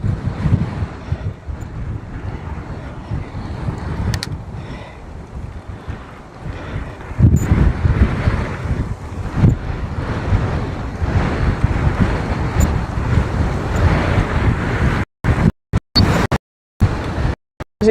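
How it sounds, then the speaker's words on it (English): Strong coastal wind buffets the microphone on a bike ride from Blackpool to Liverpool, a loud, steady roar with rising gusts and brief dropouts near the end, no talking. "the wind is fucking nasty"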